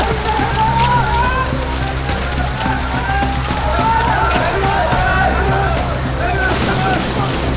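Heavy rain pours steadily in a dense, unbroken hiss at a riverside factory, with a low rumble underneath and no clear pauses.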